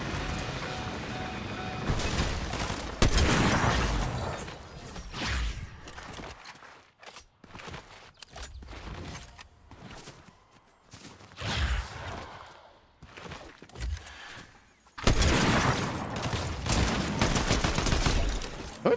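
Gunfire in a video game from a gun loaded with attachments, with dense bursts of shots at the start and again near the end. Sparser shots, clicks and footsteps fill the middle, close and loud.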